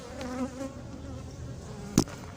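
Honeybees swarm and buzz close around an opened hive while a new queen is being introduced, a steady agitated hum with a sharp louder burst near the end.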